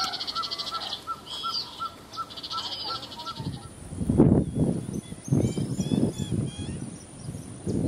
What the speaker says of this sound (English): Yeah, I'll play some owl tape here.